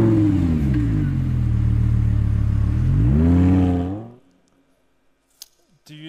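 Lamborghini engine revving loudly at a product launch event, a sustained rising and falling roar that swells, then cuts off abruptly into near silence with a couple of faint clicks.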